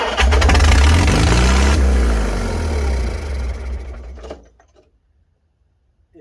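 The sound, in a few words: 1955 Farmall 300 RC tractor engine starting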